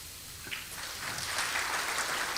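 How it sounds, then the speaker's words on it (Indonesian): A congregation breaks into spontaneous applause during a pastor's sermon, a dense, steady patter of many hands clapping that holds at an even level throughout, with no voices above it. "kan enak gak disuruh tepuk tangan"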